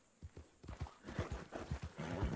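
Hooves of a horse in the Red Dead RP game clip-clop in a steady, accelerating rhythm, close and fairly loud, with a faint whinny-like tone toward the end.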